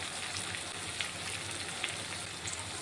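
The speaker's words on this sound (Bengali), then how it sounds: "তেলটাকে দিয়ে কিছুক্ষণ ভেজে নেব।" Katla fish oil sizzles steadily in a pan with a little salt and turmeric, a dense, even crackling hiss with a few faint pops, close and continuous, no talking.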